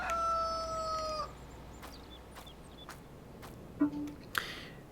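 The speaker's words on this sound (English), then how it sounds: "We now have our chickens." In the video game Farming Simulator 23, chickens on a farm crow and cluck; a long rooster-like call opens, followed by a few short clucks over a steady background hum.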